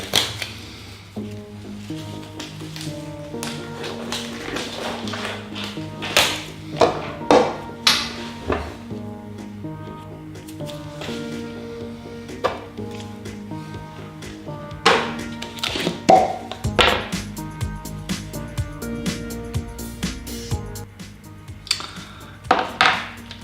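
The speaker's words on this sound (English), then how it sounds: "Resin mixing time." Epoxy resin stirred in a container for a CNC wooden honeycomb key holder, a steady run of light clinking, scraping and tapping strokes of irregular rhythm, close and moderately loud with no talking.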